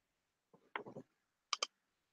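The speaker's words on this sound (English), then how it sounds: "I was clicking on the wrong button there." A few sharp mouse clicks on a button during a live broadcast session: a single click, then a quick cluster of three, then two crisp clicks close together, all close-up and quiet against silence.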